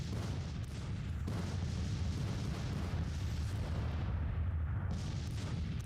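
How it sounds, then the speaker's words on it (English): Artillery batteries firing in the Civil War strategy game Grand Tactician: The Civil War, a continuous heavy rumble of overlapping booms that rolls on steadily without a break. "The artillery will fire all morning."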